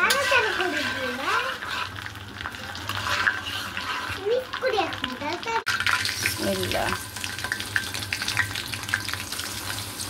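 Whole cumin, dried chilli and bay leaf sizzle and are stirred in hot oil in a pan for olive pickle, a steady crackling fry with scraping stirs, while voices talk over it.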